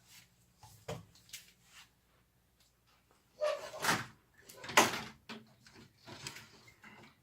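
A door in a utility room holding a hot water tank and furnace is opened with a bump, a creak and rattling clatter, a few close knocks and scrapes among quiet gaps.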